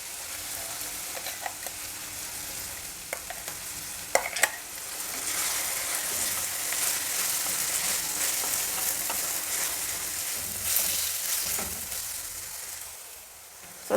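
Ground masala paste fries with onion and peas in a pan over high flame for a coriander rice dish, producing a steady sizzle with repeated stirring scrapes and a couple of sharp utensil clicks.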